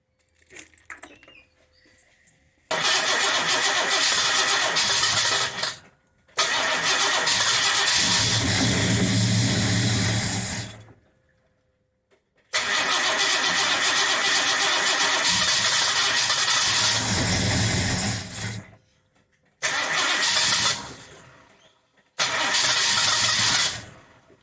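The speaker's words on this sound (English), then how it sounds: "Let's see if the car starts." A Ford Falcon's 351 Cleveland V8 engine cranks and fires in several long bursts separated by short pauses, loud and close, hard to start, with no one speaking.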